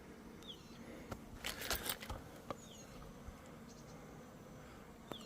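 Honeybees buzz at a single-box hive during a feed check, a faint, steady drone with a short cluster of louder buzzing passes near the middle and no talking.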